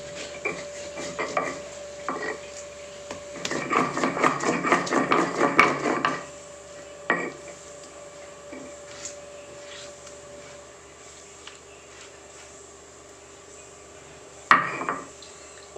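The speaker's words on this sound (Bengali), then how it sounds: "এই আদা আর জিরেটা এবার আমি শিলেতে পেস্ট করে নেব।" Ginger and cumin ground into a paste on a traditional stone slab for a Bengali vegetarian kochu shak dish. Rough rhythmic scraping and rubbing, loudest in a dense burst midway, then quieter intermittent strokes with a brief knock near the end, no talking.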